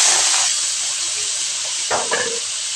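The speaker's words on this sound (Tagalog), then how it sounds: "Ilagay lang natin yung karne." Pork belly hits a hot pan for a Filipino pancit guisado, a loud steady hiss and sizzle with a few brief clatters near the end.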